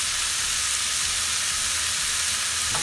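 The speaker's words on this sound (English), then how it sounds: "just saute it in a little oil" Vegetables sauté in a little oil, giving a steady, close, loud sizzle and crackle throughout, with a faint clink of a utensil at the end.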